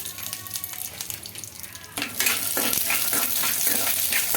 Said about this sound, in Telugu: కొద్దిగా ఆయిల్ వేసేసుకొని అందులోకి పల్లీలు అయితే వేసుకుంటున్నానండి